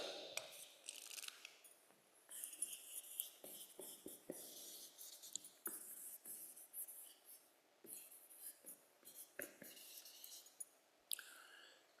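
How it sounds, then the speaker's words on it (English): A hand writes close up, the pen scratching on a surface in quiet, intermittent strokes and short scribbles, with small pauses between words. "I'm going to write it here."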